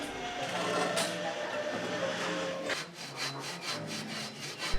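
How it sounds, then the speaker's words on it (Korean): Hand saw rasping steadily through a soft autoclaved aerated concrete (Q-CON) block, a long run of push-pull strokes close by, the rhythm quickening into shorter strokes toward the end. "열심히 톱질해서 표시한 부분을 잘라내 주고 있습니다."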